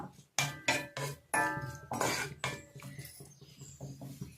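A metal pan, or kadai, holding oil is lifted and set down on a kitchen stove. Close, sharp clanks and clinks come in a few distinct knocks, followed by softer rattling, with no talk.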